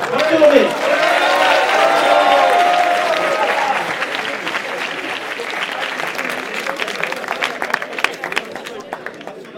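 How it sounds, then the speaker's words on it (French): School audience applauding an absent fifth-prize winner at an eloquence contest, sustained clapping that starts loud with voices mixed in and thins into scattered individual claps toward the end. "on va quand même l'applaudir"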